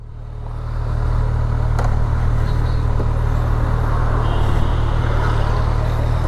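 A Bajaj Chetak scooter, freshly serviced, runs steadily on a test ride, with a continuous low engine hum and road or wind noise that swell after the first second and then hold constant, without any talk.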